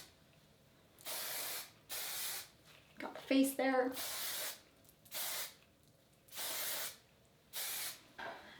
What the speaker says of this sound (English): I will spray with the hairspray.